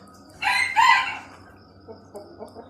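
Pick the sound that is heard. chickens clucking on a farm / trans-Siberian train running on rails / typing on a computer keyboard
chickens clucking on a farm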